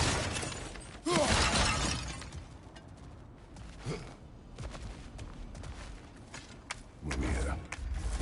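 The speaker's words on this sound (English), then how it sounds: "Back to smashing through things for fun and profit." Objects smash and shatter in God of War Ragnarok, with a loud burst of breaking debris near the start, a smaller crash midway and another heavy smash near the end, close and punchy.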